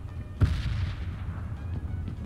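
A single heavy gunshot in the mobile battle royale game PUBG Mobile booms out near the start, followed by a low rumbling tail and faint distant shots.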